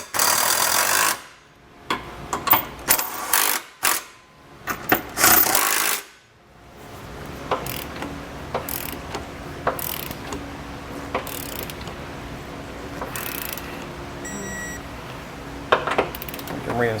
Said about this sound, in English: We're going to tighten all of our hardware and then torque it to the specification of the instructions.